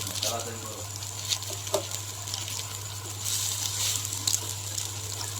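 Lentil fritters (masoor dal bora) sizzling in hot oil in a pan, a steady close crackling fry with occasional pops and brief soft clatters.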